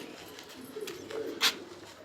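Young pigeon in a home loft, a soft low coo or two close by followed by a brief flutter-like burst, faint overall with no talking.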